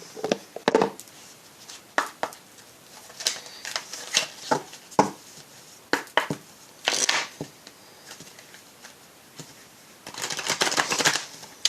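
Oracle cards being shuffled for a tarot reading, crisp riffling and slapping bursts coming in irregular clusters, close and fairly quiet, with no talking.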